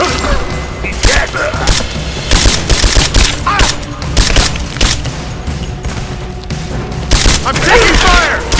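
Gunfire in the video game Rise of the Tomb Raider, loud repeated bursts and single shots cracking over a rumbling battle bed, with booms and impacts scattered throughout.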